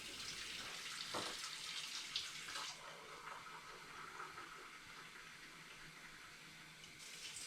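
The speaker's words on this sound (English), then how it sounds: "so it's always a good idea to give your hands a rinse" Hands rinsed under a running kitchen tap while making pumpkin pie, a steady faint stream of water with splashy surges early on as the hands move through it, close and without talk.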